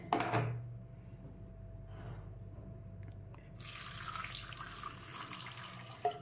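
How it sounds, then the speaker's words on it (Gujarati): Water pours from a tap into a pot of washed amla (Indian gooseberries), a faint running splash that starts softly and swells into a steady stream near the end. "એમાં હું પાણી એડ કરી દઈશ"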